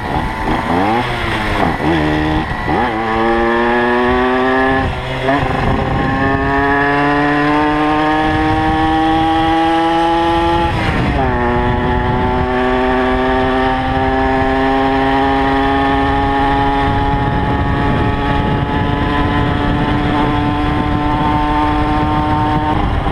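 A Peugeot 103 moped ridden on the road, its small two-stroke engine buzzing loudly and steadily throughout, pitch rising and falling through repeated accelerations and gear changes.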